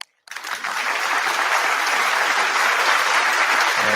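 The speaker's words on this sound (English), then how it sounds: "Let us give a big round of applause" A rally audience breaks into a big round of applause after a moment of silence. The clapping is dense and steady and carries on without pause.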